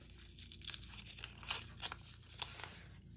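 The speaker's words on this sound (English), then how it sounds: "Let me see if I can tear this apart." Seam binding ribbon is pulled and torn apart by hand in a quiet room, a few soft ripping and crinkling bursts spread over a few seconds, faint and close.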